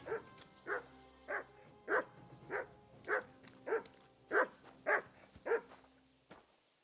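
A dog in the video game Kingdom Come Deliverance 2 barks about eleven times in a steady, evenly spaced rhythm, each bark clear and moderately close, with no voices over it.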